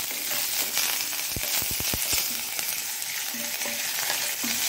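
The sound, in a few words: mustard seeds and curry leaves sizzling in oil for tempering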